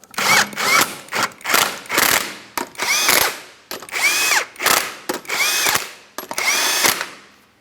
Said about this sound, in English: I'm torquing each one of my 21mm lug nuts to 80 foot-pounds. I've got my torque wrench.